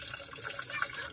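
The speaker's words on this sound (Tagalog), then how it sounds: "Lagyan ko konti tubig." Tap water runs steadily from a faucet into a pot to cook rice, a soft, continuous, fairly quiet splashing flow that lasts the whole moment.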